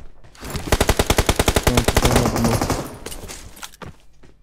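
A loud, close burst of automatic fire from a video game machine gun, around a dozen rapid evenly spaced shots rattling off before trailing away into a few scattered reports.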